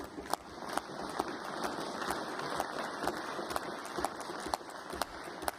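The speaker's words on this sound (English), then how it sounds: "I would appreciate if you would save any applause till the end of the statement" Steady applause fills the Scottish Parliament chamber, a dense wash of many hands clapping with a few sharper claps standing out, sustained evenly throughout.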